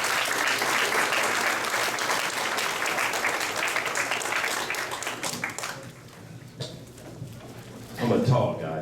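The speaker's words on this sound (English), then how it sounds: "Let's give a round of applause for Mr." Steady audience applause for speaker Joseph Napier at a school career and technical event in Youngstown, loud and sustained at first, then thinning out to scattered claps.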